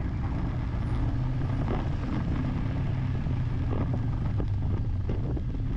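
Road traffic near Manduria Plaza in the Philippines forms a steady, dense rumble of engines and passing vehicles with wind buffeting, continuous and fairly loud without talk.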